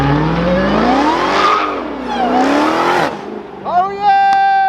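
A Dodge Hellcat fitted with a $500 mod revs hard, its engine note sweeping up and down twice in loud, whining surges before dropping to a steadier, lower tone.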